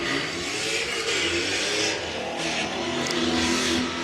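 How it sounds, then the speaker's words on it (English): A Ford Mustang GT350 race car accelerates hard at a green-flag start, engine roaring steadily and climbing through the gears for about four seconds, loud and close with no voices. "Dan Estel working his way through the gears."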